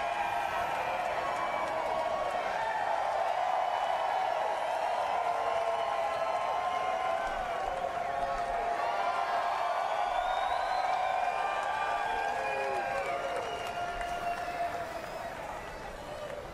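Crowd noise from fans at a NASCAR Xfinity Series race finish at Darlington, a steady roar of reaction and cheering that holds at an even level for the whole stretch before easing slightly near the end.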